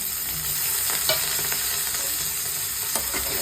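Chopped onion, ginger, garlic, coriander leaves, green chilli and tomato fry in a pan for a paneer dish, giving a steady close sizzle with occasional spatula scrapes and clinks.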